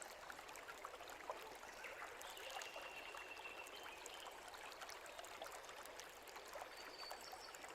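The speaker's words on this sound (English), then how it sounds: "So I'm gonna rinse this a few times until that water's not cloudy anymore." Steady running water from a tap pours and splashes while soaked food is rinsed for meal prep, a continuous close wash with no talking.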